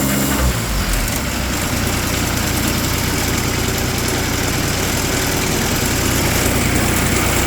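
A John Deere 322 lawn tractor engine with a governor problem runs loud and close at a steady, even drone. It starts with a brief low rumble and holds constant throughout.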